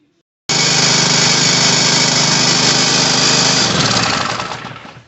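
A 208cc small engine, just back together after a carburetor repair, roars at a loud, steady high rev for about three seconds before the throttle drops and it winds down.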